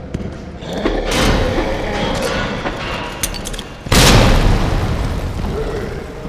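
Grenade explosions in the Resident Evil 2 Remake video game, two loud booming blasts with gunfire and crashes between them, the second blast heavier and lingering under the game's background noise.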